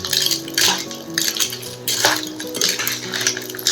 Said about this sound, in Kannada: ಈ ಮಸಾಲ ಹಾಕ್ಕೊಂಡು ಚೆನ್ನಾಗಿ ಮಿಕ್ಸ್ ಮಾಡ್ಕೊಳ್ಳೋಣ.